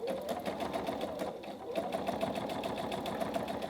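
Sewing machine running steadily while stitching a quilt block, a close, even rapid chatter of the needle with one brief slowdown partway through and no talking.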